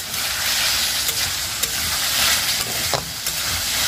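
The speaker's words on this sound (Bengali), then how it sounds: "আর এখানে হচ্ছে আলু আর আলু আর পটল খুব সুন্দর সেদ্ধ হয়ে গিয়েছে, একটু কষিয়ে নিচ্ছি" Boiled potatoes and pointed gourd being sautéed in a pan for a fish curry, with a continuous bright sizzle and several clinks and scrapes of a spoon stirring them up close.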